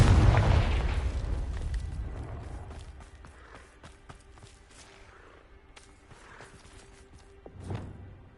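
A Confringo fire-blast spell in Hogwarts Legacy goes off with a loud, close burst and rumbling boom that fades over several seconds, followed by quieter scattered impacts and a brief thud near the end.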